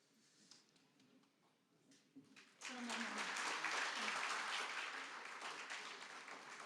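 Audience applause at an alumni congress, starting as scattered light clapping and swelling after a few seconds into a loud, sustained round of clapping that holds steady to the end.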